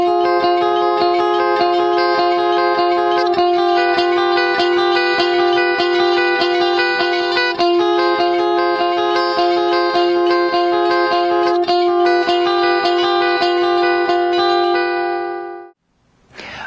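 Electric guitar playing at full tempo, with driving, effects-heavy strummed chords ringing continuously before cutting off abruptly near the end.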